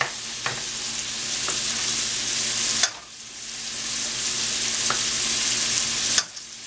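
Butter sizzling in a hot skillet for baked tenderloin, a bright steady close hiss broken by a few sharp clanks and scrapes of a utensil against the pan.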